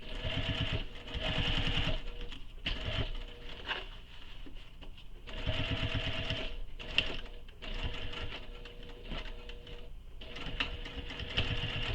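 A sewing machine stitches a commuter tote bag in a steady, rapid mechanical whir. It runs close and continuous, with brief slowdowns and short pauses between runs.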